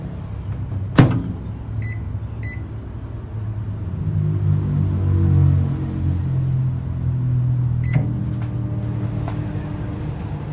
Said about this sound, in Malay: So macam biasalah inisiatifnya masuk dalam microwave